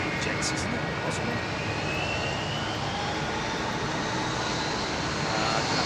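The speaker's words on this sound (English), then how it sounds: "I think they have one of the old BA 747-400s" An old British Airways Boeing 747-400 in retro livery roars steadily at London Heathrow, a loud continuous broadband jet rumble with a faint rising whine, filling the whole stretch without pause.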